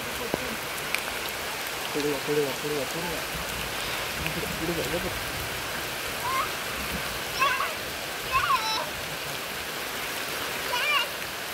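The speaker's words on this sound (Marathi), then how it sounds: "पाऊस कसा मध्ये झाला" Steady rain hisses over a rice field during harvest, a continuous wash of drops at even strength while people talk intermittently over it.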